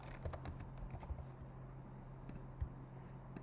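Quiet clicking of a computer keyboard as a product name is typed, irregular soft keystrokes with a few sharper taps over a low steady hum.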